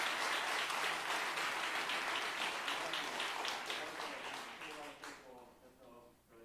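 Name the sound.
applause in church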